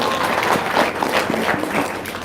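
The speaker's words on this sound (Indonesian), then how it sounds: "Tepuk tangan dong." A crowd applauds steadily for a couple of seconds, a dense wash of clapping with a few louder claps standing out.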